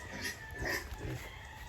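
A pig grunts a few times nearby amid general farmyard noise, low and rough.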